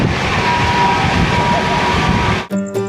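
Humsafar Express rumbles at speed through Punjab, around 127 km/h, with a loud, steady rolling roar heard from inside the train that cuts off abruptly near the end to a brief tonal chime.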